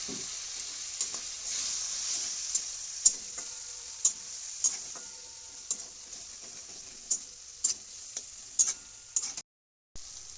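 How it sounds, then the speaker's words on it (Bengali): Ghugni masala sizzles steadily in a pan with a little water while being sautéed, a continuous bright frying hiss broken by frequent sharp ticks and scrapes of the spatula, close and moderately loud, without speech. "সামান্য একটু জল দিয়ে কষে নেবেন, যাতে মশলাটা গায়ে না ধরে যায়"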